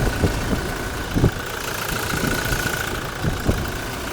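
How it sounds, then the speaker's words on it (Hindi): A Toyota Fortuner diesel engine idles steadily nearby, a continuous low rumble with a faint whine and a few soft knocking thumps, no voices. "और ये कुछ आवाज़ फॉर्च्यूनर की है जो कि थोड़ी सी ज़्यादा है उसके कंपैरिजन में,"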